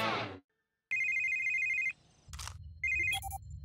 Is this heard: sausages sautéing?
no